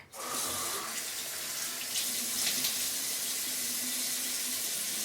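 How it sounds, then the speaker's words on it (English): Tap water runs steadily into a bathroom sink as a face is splashed and wetted during a nighttime skin care routine, a continuous close hiss of flowing water with no talking. "So anyway, I'm gonna get my face wet."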